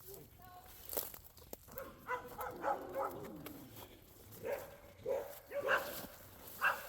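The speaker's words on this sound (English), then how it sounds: "What are you guys barking at, huh?" A dog barks from the woods near a log-sawing site, giving short, separated yips and barks spread through the stretch, fairly close and moderate in volume, mixed with a few footsteps and soft rustling.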